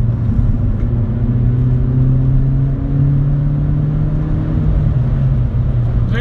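A 2012 Mini Cooper S (R56) hot hatch engine pulls hard through a set of corners in third gear, a loud, steady close drone whose pitch climbs gradually.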